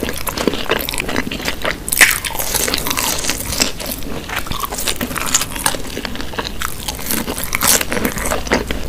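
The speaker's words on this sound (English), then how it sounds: "Crunchy fry sounds are so sweet." Crunchy, crispy fried chicken being bitten and chewed up close, with repeated sharp crackling crunches and wet chewing in a steady, dense rhythm and no talking.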